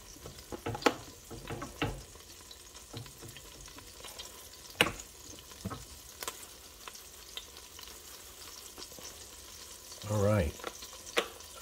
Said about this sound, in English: we're gonna let that heat up